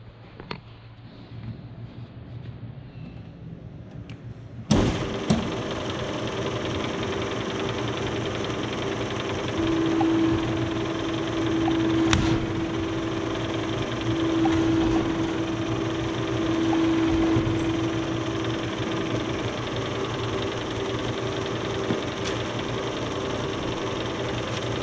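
A Baum Nygren Dahly K-3 three-spindle paper drill bores through a thick paper stack. After a quiet start its motor kicks in abruptly with a steady hum, and a higher whine comes and goes over it.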